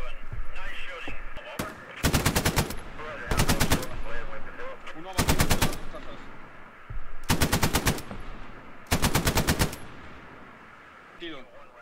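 Five loud, rapid bursts of machine gun fire crack out in a Hell Let Loose battle at an Omaha beachhead, spaced by brief pauses with faint voices and battlefield ambience between them.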